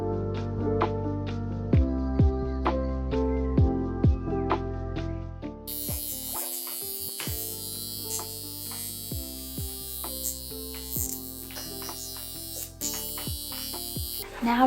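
A high-frequency facial wand used at home buzzes against facial skin, a steady electric hum with brief taps and clicks as it touches down, lasting throughout the stretch.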